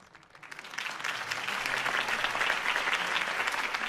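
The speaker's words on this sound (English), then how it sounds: "could have heard that applause" Crowd applause at a political rally in Batman: The Telltale Series, dense clapping that builds quickly from a quiet start into a loud, sustained ovation with no talking over it.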